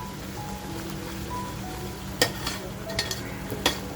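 Homemade masala sizzles steadily as it fries in a pan for a spicy halwa fish dish, with a low hum underneath and a few sharp stirring scrapes near the end.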